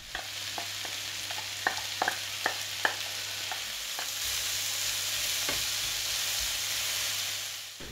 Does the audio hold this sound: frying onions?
yes